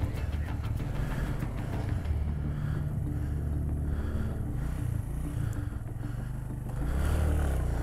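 A motorcycle engine labours steadily uphill on a steep, rough mountain track in Azad Kashmir, a loud, constant low rumble with wind buffeting the microphone throughout and a slight swell near the end.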